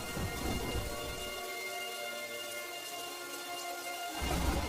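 A heavy thunderstorm roars steadily, with dense loud rain and deep rumbling thunder throughout and a louder crashing swell at the start and end, no voices.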